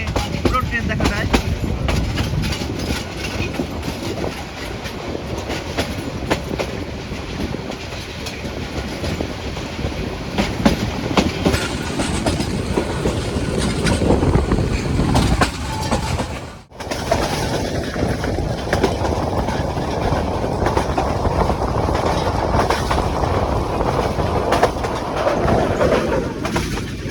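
The Parabat Express passenger train runs on the rails on the Dhaka to Sylhet route, heard from the rear carriage as a steady loud rumble and clatter. Birds call faintly and there is one brief dropout midway.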